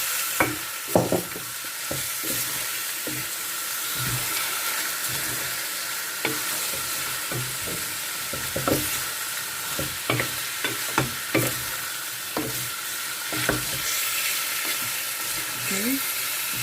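Chicken pieces frying for biryani sizzle steadily in a hot pan, with repeated knocks and scrapes as they are stirred, heard close and alone for most of the stretch.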